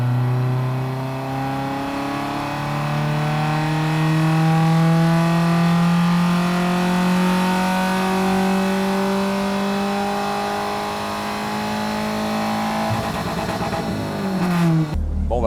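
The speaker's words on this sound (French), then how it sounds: "on va passer une petite GT3 RS 991 avec un échappement" A Porsche 911 GT3 RS of the 991 generation with an aftermarket exhaust revs loudly at a Marseille car event, its rising and falling engine note holding steady for most of the clip before a sharp burst at the end.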